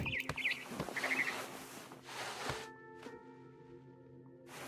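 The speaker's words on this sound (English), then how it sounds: "Then I heard chirping outside my window. It was a barn swallow going back to her nest." A barn swallow in the video game What Remains of Edith Finch gives a few quick, high, twittering chirps near the start, quiet against a soft game ambience and low humming tones.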